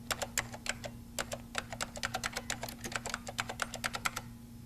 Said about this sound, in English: Type your information